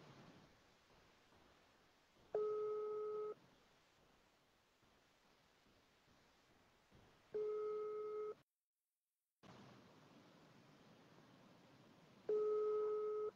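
A WhatsApp call rings out over a phone speaker, sounding three spaced tonal ring bursts of about a second each, separated by quiet hiss and a brief dead gap.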